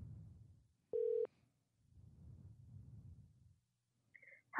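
A telephone dial tone sounds as a single steady beep of about a third of a second amid low rumbling, followed by brief higher electronic tones of a call connecting.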